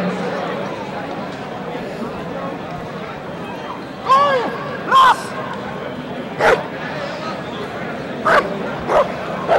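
A police working dog barks at a KNPV trial, giving several sharp, loud barks and yips in short bursts over steady outdoor background noise, with a commentator talking throughout.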